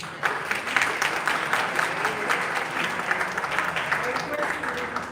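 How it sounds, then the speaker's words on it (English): A conference audience gives a round of applause for a team, dense steady clapping at moderate distance lasting the whole stretch, with a voice faintly mixed in beneath it. "I wanted all of you to please give a round of applause."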